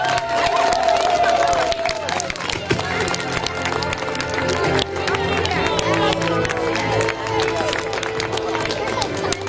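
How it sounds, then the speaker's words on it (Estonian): Crowd at a local series running race in Keila claps and cheers, a loud, busy wash of applause mixed with shouts and chatter, with voices talking throughout. "Suur aplaus teile kõigile!"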